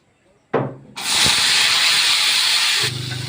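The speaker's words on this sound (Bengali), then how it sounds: "কড়াইতে তেল দিছি, তেলটা গরম হয়ে গেছে, 5 ফোড়ন দিছি।" Panch phoron spices hit hot oil in a wok for a pickle, first a short crackle, then a loud steady hissing sizzle that holds for about two seconds before easing into a softer bubbling fry, close by.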